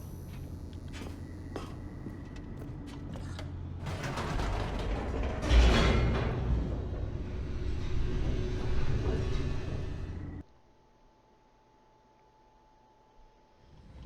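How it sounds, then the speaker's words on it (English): An elevator descending in The Stanley Parable: a grinding, creaking mechanical rumble that swells steadily louder, then cuts off sharply to near silence with only a faint hum left. "The elevator raced downward, plummeting towards an unknown fate"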